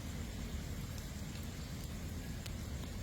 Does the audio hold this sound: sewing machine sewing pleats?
no